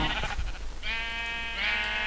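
Two drawn-out bleats from a pink sheep in Minecraft, the second following closely after the first, loud and clear with game background noise behind them and no talk.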